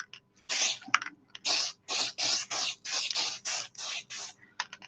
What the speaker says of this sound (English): So this spray is really good